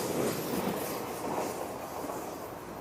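A six-car Ryomo train rolls past a remote Tokyo-area station, a steady broadband rumble of wheels and carriages close by with no voices.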